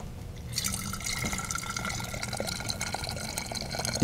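Hot water pours steadily into a container during a classroom demonstration, a continuous liquid splashing and filling sound that begins after a brief quiet moment and runs on without talk.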